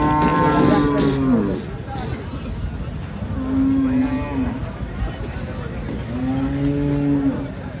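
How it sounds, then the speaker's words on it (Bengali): Dairy cows and calves mooing at a cattle market, three loud drawn-out lowing calls spaced a few seconds apart close by, over a background of market chatter. "এইগুলো গাভী বাছুর।"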